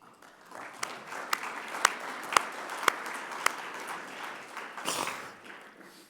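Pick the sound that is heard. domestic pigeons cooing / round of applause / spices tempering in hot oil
round of applause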